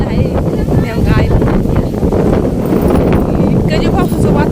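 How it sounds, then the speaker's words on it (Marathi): Strong wind gusting outdoors in a village as rain approaches, roaring steadily across the microphone throughout and loud enough to bury anything else. "आवाज येत असेल वाऱ्याचा"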